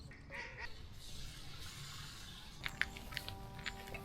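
A pair of wood ducks perch on mossy branches outdoors and give faint, short squeaky calls in a loose series over soft steady background noise.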